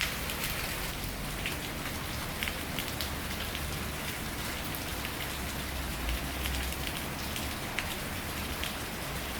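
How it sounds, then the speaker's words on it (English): Heavy rain falls in Port Louis, Mauritius, a dense, constant hiss of drops drumming on surfaces all around, loud and unbroken, with no voices. "It's really, really raining."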